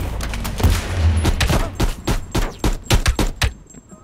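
Rapid gunfire in the video game Call of Duty: Black Ops Cold War, a loud burst of many close sharp shots in quick, uneven succession for several seconds.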